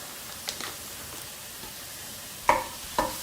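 Lemongrass sizzles softly in hot oil in a pan alongside onion and garlic, a faint steady frying hiss with two sharp spoon taps near the end.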